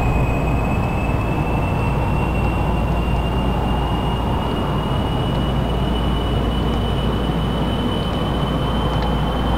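Rocket engines at full throttle in Kerbal Space Program give off a loud, steady, dense roar with a constant high whine on top, unbroken throughout.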